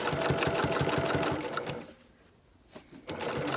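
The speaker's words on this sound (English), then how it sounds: "This is obviously the easy part about sewing piping on." A sewing machine runs close and steady while sewing piping onto a bag panel, a fast mechanical whir that pauses briefly before starting again.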